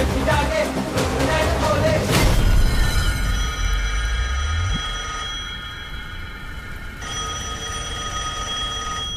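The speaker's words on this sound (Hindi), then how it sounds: "तेरे लिए वो फोन है।" A telephone rings with a bright, repeating electronic bell tone that sounds after an abrupt loud burst and continues steadily to the end, close and clear in a dramatic movie scene.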